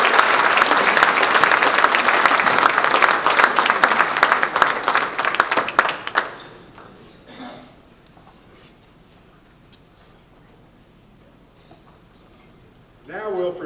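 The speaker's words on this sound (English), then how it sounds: "Let's give them a nice round of applause." A crowd applauds Hall of Fame honorees at a 2019 Lyon athletic induction ceremony, a dense, steady burst of clapping lasting about six seconds before fading to a quiet room with faint scattered noises.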